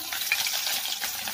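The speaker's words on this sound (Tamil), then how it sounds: "இப்போ அதை நம்ம எடுத்து அந்த ஆயிலில் போடுவோம், போட்டு ஃப்ரை பண்ணுவோம்." Prawns fry in hot oil with a loud, close, steady crackling sizzle that holds evenly through a short moment.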